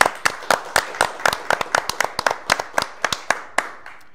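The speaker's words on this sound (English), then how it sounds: "How about a nice round of applause," Scattered hand claps from an awards show audience, a steady run of sharp, fairly close individual claps that thin out toward the end rather than a full dense ovation.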